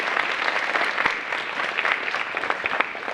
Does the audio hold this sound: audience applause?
yes